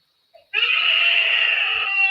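A young child lets out one loud, sustained, high-pitched scream that holds for over a second and a half, close by and otherwise quiet.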